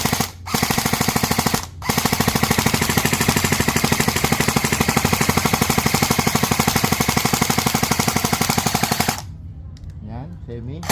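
A VLTOR airsoft assault rifle fires long full-auto bursts. Rapid, even, mechanical clatter runs for several seconds after a short opening burst, then cuts off into quieter background noise, all close to the listener.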